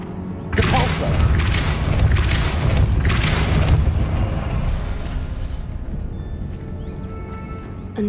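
Depulso spell cast in the Hogwarts Legacy video game: a sudden deep boom after a brief pause, followed by a loud, sustained rumbling wash that slowly fades.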